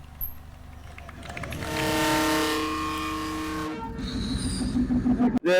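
The Chandana commuter train rumbles past close by in Faridpur, swelling to a loud roar with a tonal whine before dropping off, followed by rattling and clatter.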